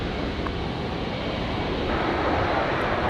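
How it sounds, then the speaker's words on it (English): A Dash 8 turboprop at Brisbane Airport, a loud steady broadband engine roar that swells slightly louder toward the end, heard from a spotting position with wind on the microphone and no talking. "There's the Dash 8."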